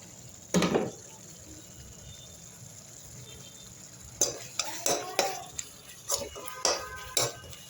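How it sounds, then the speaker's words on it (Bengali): Onion and spices are sautéed in a pan, a spatula scraping and knocking against the metal in irregular bursts over a faint frying sizzle, close by with no talk. "এবার পেঁয়াজটা কষে নেবো ভালো করে, মশলাগুলো নিয়ে একসাথে"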